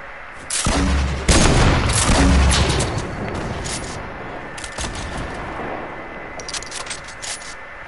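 Rocket fire and explosions in a multiplayer video game, with heavy booms and bursts early on, then a steady rumble of distant blasts and crackling gunfire continuing close and loud.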